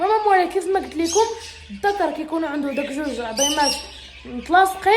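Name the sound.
lovebird squawking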